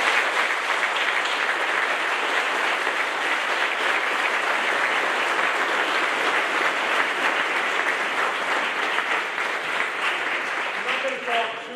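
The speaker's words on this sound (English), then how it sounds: "a round of applause for Scott." Sustained, dense audience applause fills a U.S. Navy Master Chief Petty Officer change of charge ceremony, a steady wash of many hands clapping at even loudness for about twelve seconds before tapering slightly at the end.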